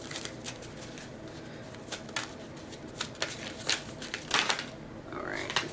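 Playing cards are drawn and handled close by, giving short papery flicks and riffling snaps in an irregular rhythm, with quiet room noise and some talking in the background.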